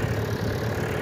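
A tractor engine running steadily nearby, a continuous low rumbling drone with no change in pitch, no talk.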